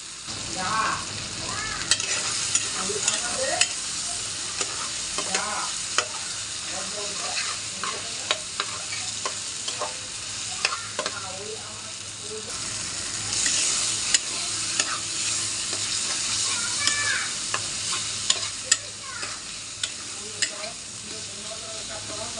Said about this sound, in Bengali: আবারও নাড়াচাড়া দিয়ে বাড়তি পানিটা শুকিয়ে নেব